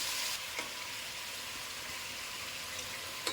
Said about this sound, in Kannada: ನೋಡಿ ಈ ರೀತಿ ಎಣ್ಣೆಯಲ್ಲಿ ಎಲ್ಲ ಮಟನ್ ಮಿಕ್ಸ್ ಆಗೋ ಥರ ಚೆನ್ನಾಗಿ ಮಿಕ್ಸ್ ಮಾಡ್ಕೋಬೇಕು